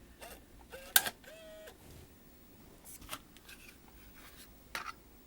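A Siemens FA-259 SVHS-C camcorder tape mechanism whirs and clicks as it ejects, with short motorized whines, mechanical clunks and scattered taps, close and fairly quiet.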